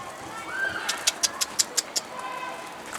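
Tumbler pigeons coo close by, a short rising call followed by a quick, evenly spaced run of soft pulses before the sound settles back to quiet.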